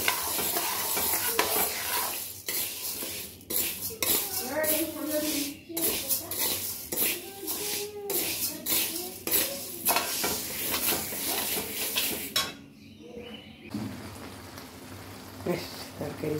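Curry cooking in a pan while being stirred, with a continuous sizzle and repeated scraping and clattering strokes of the spoon against the pan, heard under background music.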